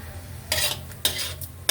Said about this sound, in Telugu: ఇప్పుడు ఈ మసాలా వేయిస్తున్నాను.